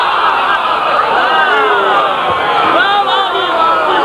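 Crowd at a religious gathering shouting slogans in unison, loud and continuous, with voices rising and falling together over a dense roar of the audience.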